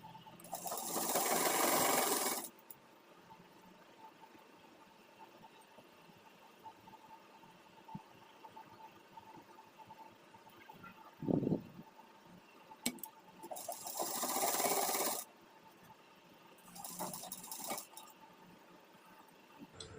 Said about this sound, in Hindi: तो इसी तरह से पूरे में सिलाई लगा लेना है।